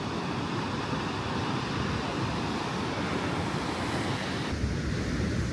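Ocean surf rolls and breaks steadily on the rocky shore at Sutro Baths in San Francisco, a constant loud wash of waves with wind buffeting the microphone throughout.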